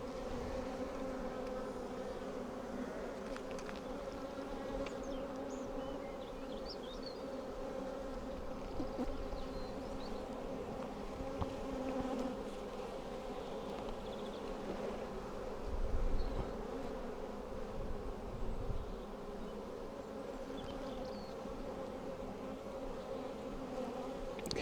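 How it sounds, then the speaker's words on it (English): Many honey bees swarm around open hives heavy with honey, making a steady, dense buzzing that stays fairly faint throughout, with occasional low thumps and handling noise beneath. "lots of bees. And lots of bees coming too."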